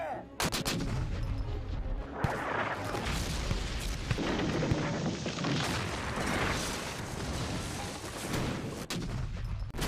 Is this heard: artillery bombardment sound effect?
yes